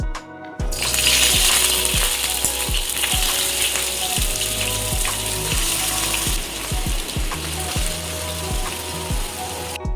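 Steady loud sizzle of fish frying in hot oil, with repeated sharp clinks and scraping of a utensil against the pan throughout, in a Kerala home kitchen.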